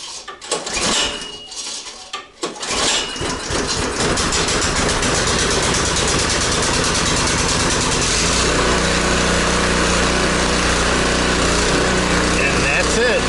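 A Toro 721e snowblower's small engine is cranked with a few rough clattering pulls, then catches and settles into a loud steady running drone close by, with brief metallic rattles at the start.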